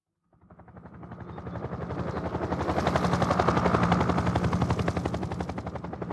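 A helicopter carrying a TV camera flies overhead, its rotor thumping rapidly and evenly as it fades in from silence and grows to a loud, sustained drone.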